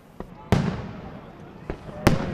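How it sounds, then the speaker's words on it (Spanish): Chinese-made fireworks burst on New Year's night in Denmark: four sharp bangs at irregular intervals, two of them loud and close, each trailing off in a crackling rumble amid distant popping, with voices faintly underneath. "La noche de fuegos artificiales de Año Nuevo es muy popular en Dinamarca"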